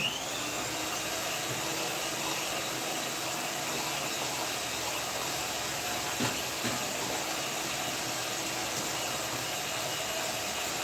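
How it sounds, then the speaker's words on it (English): Electric hand mixer whirring steadily while beating cake batter, a constant close broadband drone held for the whole stretch with no talk. "I'm about to run my hand mixer. It might be noisy kidogo"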